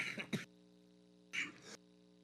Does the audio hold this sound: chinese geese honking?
no